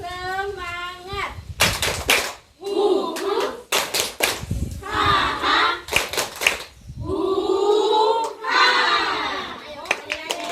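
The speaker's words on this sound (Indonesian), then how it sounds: "ikut tepuk tangannya biar lebih rame lagi. Oke. Tepuk semangat." A group of children and adults at a school awareness session performs rhythmic cheer claps in sharp, loud bursts, alternating with voices talking and chanting between the clapping patterns.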